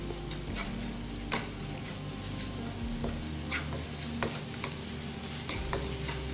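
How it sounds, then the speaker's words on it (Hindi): Chopped white parts of spring onions sauté in a pan for a vegetable soup, giving a continuous soft sizzle with occasional scraping stirs and light clinks, steady throughout, no voices. "इसके बाद आप इसमें डाल देंगे चॉप किया हुआ प्याज का वाइट पार्ट, हरी प्याज का, बस हल्का सा इसको सौते करेंगे"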